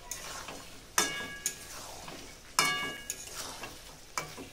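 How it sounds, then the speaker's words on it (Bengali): Chicken and fried cucumber sizzle in a pan while being stirred, with a few loud metallic scrapes and clangs of the spoon over a softer steady hiss, no speech. "এবার দিয়ে দিচ্ছি ভেজে রাখা শসা। শসা দিয়ে খুব ভালো করে কষিয়ে নেব।"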